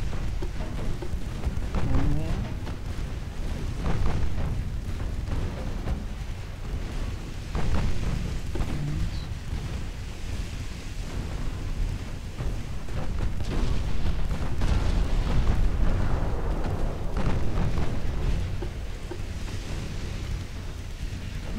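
Warship main battery guns fire in the Ultimate Admiral Dreadnoughts naval game, a 1910 British cruiser battle: repeated heavy booms come and go over a steady rumbling, wind-like roar of sea and engines, with no talk.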